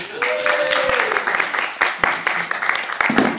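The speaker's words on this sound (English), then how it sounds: "Give this guy a round of applause" An audience at a Saturday night comedy show in Bedford breaks into sustained clapping and applause, dense and fairly close, with a short spoken voice near the start and some crowd chatter mixed in.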